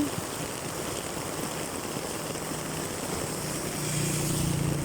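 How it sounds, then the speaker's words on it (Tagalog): Heavy rain pours down while someone walks home, a dense, even hiss that fills the whole stretch without letting up and swells slightly louder near the end; no one speaks. "Napakalakas ng ulan."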